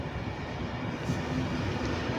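Class 390 Pendolino electric train at Birmingham International station, a steady broadband rumble and rush of the passing train, fairly loud and unbroken, with no talking.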